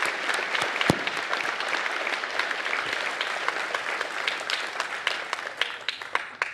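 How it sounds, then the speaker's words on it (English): Audience at a university presidential inauguration ceremony applauding, a close, steady roll of many hands clapping with a few sharp individual claps popping out, continuing without talk. "they deserve our applause"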